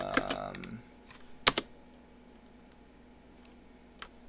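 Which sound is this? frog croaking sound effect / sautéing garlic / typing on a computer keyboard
typing on a computer keyboard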